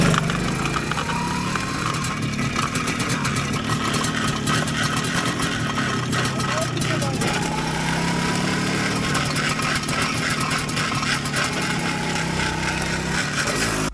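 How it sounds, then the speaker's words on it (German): A worn chain on a running MZ motorcycle rattling steadily over the continuous engine drone, close and loud throughout with no talking. "wie sich die Kette anhört von dem Motorrad."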